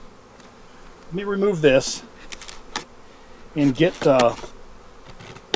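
Honey bees on a hive frame holding brood buzz in a constant, dense drone close by, while someone talks over the swarm.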